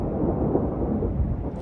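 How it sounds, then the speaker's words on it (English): Thunder rumbles low and continuous on a mountain trail, a deep steady roll with no break and no voices. "And you hear the thunder."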